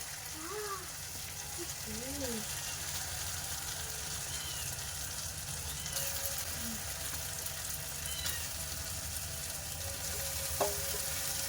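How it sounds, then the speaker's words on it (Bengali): Meat goes into a well-cooked spice paste with chili powder and fries with a steady broadband sizzle, while faint voices and a few high chirps sound in the background. "মশলাটা কিন্তু খুব ভালো কষায় হয়ে গেছে এবারে মাংস দিয়ে দেবো"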